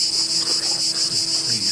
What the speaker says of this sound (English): Knock it off with the cicadas or crickets or whatever's going on.